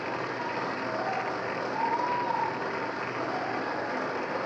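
Audience applause in the chamber at the State of the Union address, a distant, steady wash of many people clapping that continues evenly throughout, heard faintly as if through a broadcast feed.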